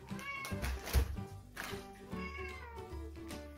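A house cat meows several times in a home kitchen. The calls are fairly close and come in quick succession with short gaps, then a softer, drawn-out meow follows.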